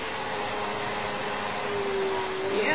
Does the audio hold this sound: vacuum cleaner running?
yes